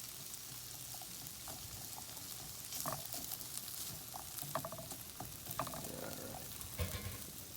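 Mushrooms and potatoes fry over a fairly high flame in a pan, giving a steady, soft hiss with scattered small pops and spits throughout.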